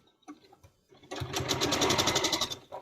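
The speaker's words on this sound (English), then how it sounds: "I hope you're sewing." A sewing machine stitching a 12-inch quilt block: a few soft clicks and bumps, then a steady close whirring run of rapid needle strokes that holds for over a second.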